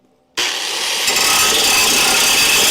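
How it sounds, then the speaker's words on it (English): Angle grinder fitted inside a spark shield cutting during welding-repair work on a crew cab Charger, starting abruptly after a short silence and then running as a loud, steady, harsh grinding hiss with no voices. "now the grinder's inside of the shield, so you know it doesn't shoot sparks everywhere"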